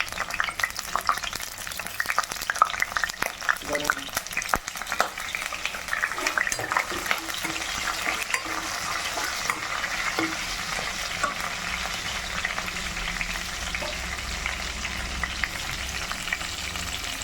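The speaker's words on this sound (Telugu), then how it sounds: "ఇలా వేగుతున్నప్పుడు మనం ఎండుమిర్చి అండి, జీలకర్ర, లైట్గా జీలకర్ర అండి, ఆవాలు, కరివేపాకు అండి." Dry red chillies, cumin, mustard seeds and curry leaves fry in hot oil as a continuous crackling sizzle with scattered pops and occasional utensil clinks, close and unbroken by talk.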